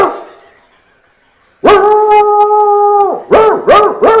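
A crowd of people imitates a dog with voices, one long sustained howl-like bark followed by three quick yelping barks, loud and close after a fading murmur.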